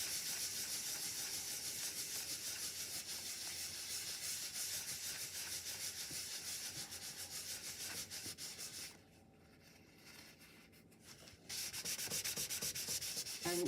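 A stamped card coated with clear embossing powder is buffed by hand, a steady, quiet rubbing hiss that runs continuously, briefly pauses, then resumes.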